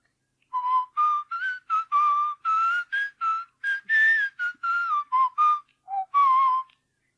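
A person whistles a lilting tune alone, a string of clear pitched notes with short pauses between phrases.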